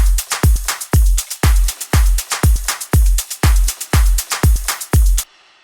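A looped Afro house drum group pattern with punchy kicks and crisp percussion in a steady driving groove, playing alone before cutting off abruptly.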